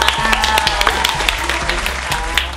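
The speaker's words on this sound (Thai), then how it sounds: "ขอเสียงปรบมือนะครับ" An audience at a Nescafé Blend and Brew coffee-tasting contest applauds the round's winner, a steady patter of many hands clapping close by.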